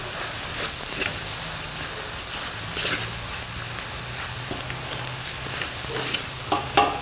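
Shrimp fried rice frying in a hot pan with paprika, a steady loud crackling sizzle throughout, with occasional stirring scrapes near the end.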